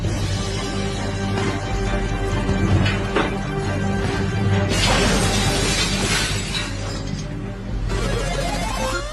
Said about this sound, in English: Five sheets of glass were broken in that test.